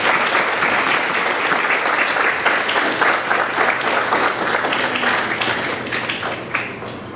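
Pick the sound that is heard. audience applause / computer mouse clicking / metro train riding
audience applause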